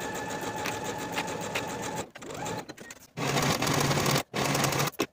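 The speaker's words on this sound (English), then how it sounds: "Sew this seam with a 5/8 inch seam allowance" A sewing machine stitches a dress seam at a 5/8 inch allowance, running in loud steady bursts with two short pauses between runs, no voices.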